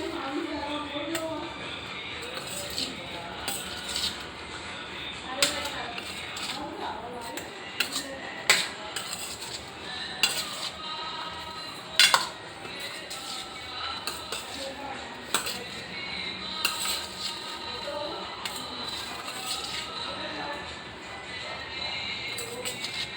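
A spoon mixes a moong and chana salad with chaat masala and lemon juice in a bowl, making repeated light clinks and scrapes throughout, with occasional sharper knocks and a voice speaking in the background.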